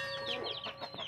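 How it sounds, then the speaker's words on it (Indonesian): Rooster sick with a respiratory illness, snoring and wheezing. A short, raspy, strained vocalization with harmonic squeaks, heard close up and alone. "menyembuhkan ayam jago yang lagi ngorok"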